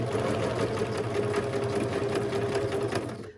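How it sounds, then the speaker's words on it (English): A sewing machine stitches steadily around the bottom of a junk-mail envelope pocket, a continuous close, loud mechanical whir with a fine rapid needle rhythm that runs the whole time and eases off at the very end. "Sew up around the bottom, and then we'll go back up that side."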